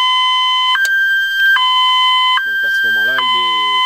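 A homemade airsoft bomb alarm, set off by a tripwire, rings loud and close in a two-tone electronic siren that alternates pitch every second or so, with a voice talking over the last part.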